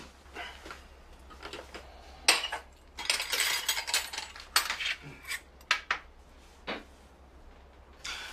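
Metal cutlery and dishes clink repeatedly during a family meal in a Korean home, bright irregular taps and clatters close by, some in quick clusters, with no talking.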